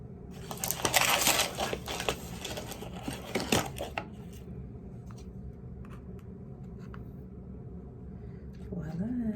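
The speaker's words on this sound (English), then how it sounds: "Then I'm gonna crush my sugar." Sugar being crushed for a homemade body scrub, a dense burst of gritty crunching and scraping up close for about four seconds, then quieter faint handling sounds.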